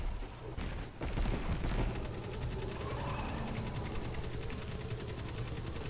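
Gunfire in Destiny 2, a sustained stream of rapid automatic shots hammering at an even rhythm for several seconds, dense and close, with no clear talking.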